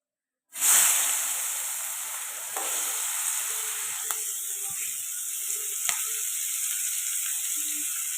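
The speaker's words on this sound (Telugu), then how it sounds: "అదే ఆయిల్లో పచ్చిమిర్చి ఉల్లిపాయలు వేసుకున్నాం" Green chillies and onions sizzle steadily in hot oil in a pan after eggs were fried in it, a loud continuous hiss that starts abruptly, with occasional faint clicks of stirring and no talk.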